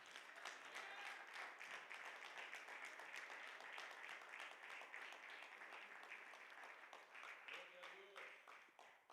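Church congregation applauding during a Spanish-language sermon on faith, a dense, steady wash of many hands clapping throughout, fairly distant and reverberant, with a preacher's voice faintly audible beneath it.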